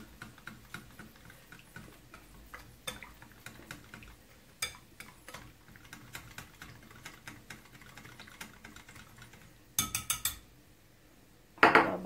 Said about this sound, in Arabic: خلطهم كويس جدا مع بعض بحيث ما يكونش فيه تكتلات